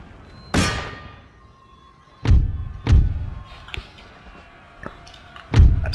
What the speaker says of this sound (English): Why is our artillery still firing there?